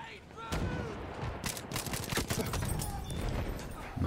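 Rapid gunfire in the Battlefield 1 video game on PS4, with dense bursts of sharp shots and booming impacts, loud and close throughout with some overlapping fire.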